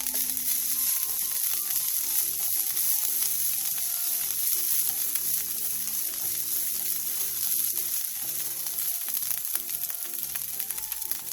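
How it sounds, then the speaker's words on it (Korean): Sliced garlic and mugwort stir-fry in oil in a pan over medium heat, an even, dense crackling sizzle that carries on steadily, close and bright. "팬에 기름을 두른 뒤 편마늘 한 움큼과 쑥 한 줌을 넣고 가볍게 1분에서 2분 정도 중불에서 볶아주세요."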